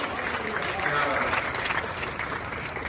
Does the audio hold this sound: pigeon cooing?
no